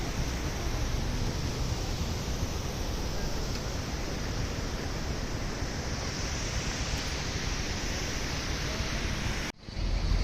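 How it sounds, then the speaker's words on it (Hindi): Mountain waterfalls in Kashmir roar as a dense, continuous rush of water at close range, steady and loud with a brief dropout near the end. "ये झरने आबशार हैं माशाल्लाह, बहुत खूबसूरत।"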